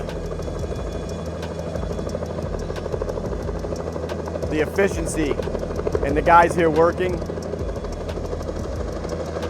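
A helicopter hovers over a warehouse roof while lifting air conditioner units into place, its rotor and engine a constant droning rumble throughout, with someone talking over it and some louder bursts of other noise.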